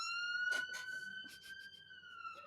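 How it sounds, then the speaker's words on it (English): An ambulance siren goes by outdoors, holding a steady high wail throughout and heard at moderate distance, with a few short bursts of other noise over it. "Hang on, there's a siren going by."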